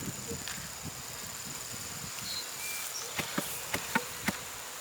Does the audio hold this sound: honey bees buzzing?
yes